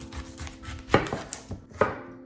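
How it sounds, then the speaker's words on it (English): A knife roughly chops a red onion on a board nearby, several uneven thuds of the blade landing at irregular intervals, with no talking. "We're also gonna loose, roughly chop the red onion as well."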